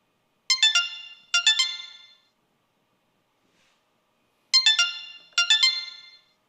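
Xiaomi Redmi Buds 8 Pro earbuds loudly playing a bright, chime-like tone pattern. Two pairs of quick ringing bursts are separated by a silent gap, with no talk.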